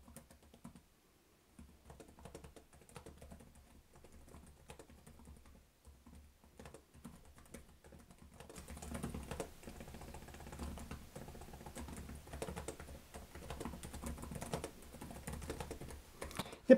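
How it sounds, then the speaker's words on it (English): Typing on the keyboard of a 2024 Lenovo Legion 5i Gen 9 laptop: quiet, rapid, close key presses in an irregular patter that grows denser and slightly louder halfway through, with no talking. "It's a Lenovo Legion keyboard, so pretty much just takes every other keyboard on the market and just throws it in the trash."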